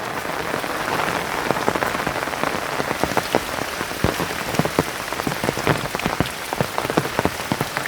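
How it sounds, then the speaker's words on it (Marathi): Steady rain pattering on a surface near a river in the Konkan region, with a dense wash of drops and scattered sharper plinks throughout, with no voices. "थोडासा पाऊस पडला आहे"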